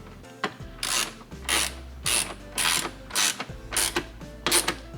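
A hand ratchet clicks in quick repeated bursts, about eight short strokes, tightening a small 10mm factory bolt that secures an oil catch can on a Lexus IS F, close and clear with no talk.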